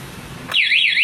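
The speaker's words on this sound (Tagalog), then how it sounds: "guys itong alarm na to. Ito itesting natin" A double alarm under test: after a second of quiet room noise, a loud piercing siren abruptly starts, warbling rapidly up and down in pitch.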